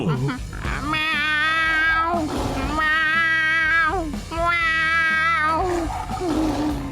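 A human voice imitates a cat, giving three long, drawn-out meows in a row, loud and close.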